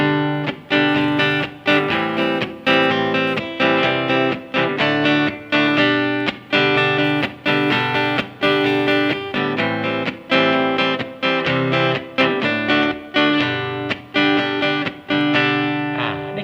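Guitar chords strummed with a pick in a steady, driving rhythm, each stroke bright and crisp with a sharp attack, ringing continuously for the whole passage.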